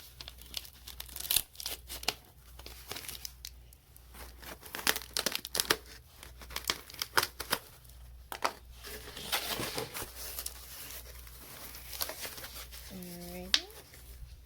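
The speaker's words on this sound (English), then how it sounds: "let's cut this guy open" A mailed plant package being cut open: close crinkling, tearing and snipping of packing material in scattered bursts, with a low hum underneath and a short tonal chirp near the end.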